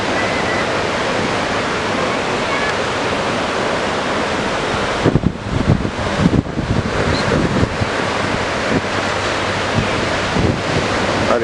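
Steady, loud roar of heavy ocean surf breaking at Anglet beach, with wind buffeting the microphone throughout and a brief dip in the rush partway through.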